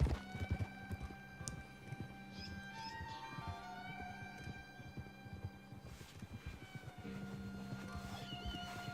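Horse hooves in Red Dead Redemption 2 clopping in a steady rhythm at moderate distance, mixed with ambient game sounds and a brief animal call.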